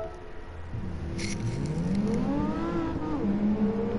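In Gran Turismo 7, a Porsche car engine revs up and climbs in pitch over a few seconds, then eases slightly and holds, with no one speaking.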